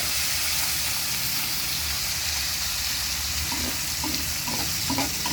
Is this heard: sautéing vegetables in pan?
yes